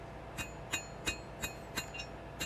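Hammer blows on hot steel while hand-forging blacksmith tongs, six or seven evenly spaced ringing strikes at a moderate pace, faint and somewhat distant over a low background hum.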